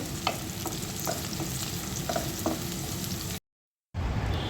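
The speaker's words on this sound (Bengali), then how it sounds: "পেঁয়াজের সাথে গরম মশলাটা একটু ভেজে নিব।" Sliced onion fries with garam masala in a pan, a continuous close sizzle with light, scattered stirring clicks, cut by a brief silent gap before the frying resumes.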